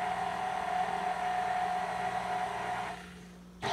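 A new KitchenAid stand mixer, switched on for the first time, makes a steady, close motor whir with a constant tonal hum, then winds down and cuts off near the end.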